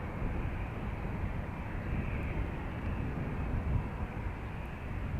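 A steady, broad jet roar from an aircraft taking off on runway 28 right at Dublin Airport, sustained and fairly distant, with no voices.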